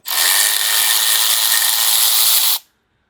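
A power driver or ratchet spins loose a factory-installed fastener on the oil pump of a 2025 Harley-Davidson Road Glide 117. It gives one loud, close, continuous whirring burst of about two and a half seconds, then stops abruptly.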